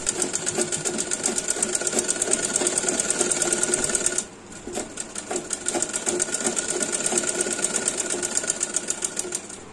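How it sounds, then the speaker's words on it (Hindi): Electric sewing machine stitching a folded sleeve along a diagonal line, a steady rapid whirring chatter close by, briefly slowing and dipping around the middle before resuming at full speed. "अब स्लीव के दोनों साइड को कुछ इस तरह फोल्ड करके तिरछी लाइन में स्टिच कर लें।"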